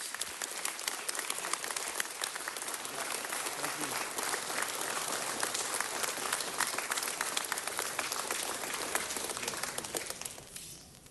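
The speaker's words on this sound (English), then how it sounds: "Let's give them a round of applause." Audience applause fills a city council chamber, a dense, steady wash of many hands clapping for about ten seconds before it tapers off at the end.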